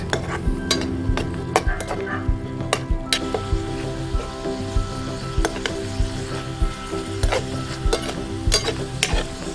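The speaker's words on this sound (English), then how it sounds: "And make sure we need to reduce the water and fry the meat." Beef mixture for pizza toppings frying in a pan, a steady close sizzle running throughout with repeated sharp clinks and scrapes of a utensil stirring against the pan.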